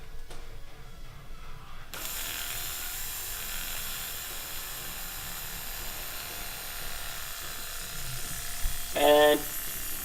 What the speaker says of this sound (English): I'll see if I can hear the fuel pump.